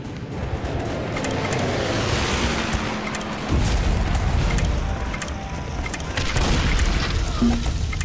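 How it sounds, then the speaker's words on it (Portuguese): A loud, sustained explosion and burst of fire from an incendiary bomb in the video game Guns Up, rumbling with crackling debris and a second swell of blast noise partway through. "Bomba incendiária."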